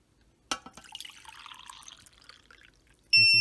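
Liquid pours into a mug with a steady trickling stream after a sharp initial splash, ending in a loud electronic beep from a pour-level indicator device.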